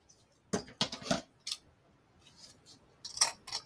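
Scissors snip sharply through ribbon several times up close, a quick burst of cuts, a pause, then another cluster of crisp snips.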